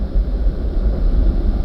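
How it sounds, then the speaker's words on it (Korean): A train approaches outdoors as a steady, heavy low rumble that stays loud and even throughout, with no voices over it. "기차가 오는 소리 들리시죠?"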